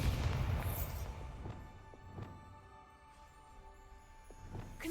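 A Bombarda explosion spell cast in Hogwarts Legacy: a loud booming burst at the start that fades into a lingering rumble, with a few fainter thuds following.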